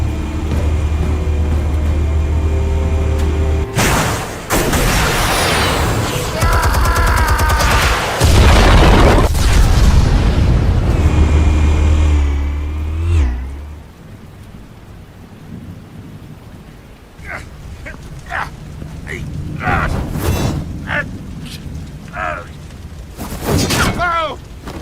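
Armed explosives detonate in the video game Batman Telltale, a loud sustained roaring blast and rumble that dies down midway, followed by scattered sharp cracks and impacts, with voices speaking over parts of it.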